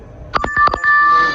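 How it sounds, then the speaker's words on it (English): A mobile phone ringing inside a Schindler elevator in an office building, a brief electronic ringtone with a couple of sustained tones and a few short chirps, loud and close. "Sorry, that's my"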